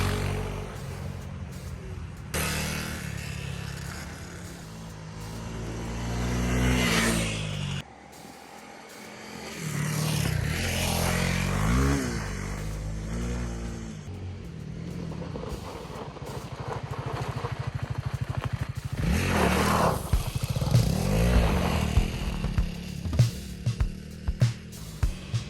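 A Honda CRF300L Rally motorcycle is ridden, with its engine droning steadily and rising and falling in pitch through gear changes, under wind rush. A rider talks at times over the engine.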